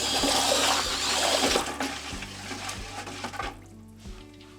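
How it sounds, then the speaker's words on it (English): Powdered commercial pottery glaze is stirred in a bucket with a loud, close, swirling slosh. The liquid churns steadily, then eases into softer, rhythmic circular swishes with faint knocks against the bucket. "the stir test is you go and you stir it until it gets going in a circle"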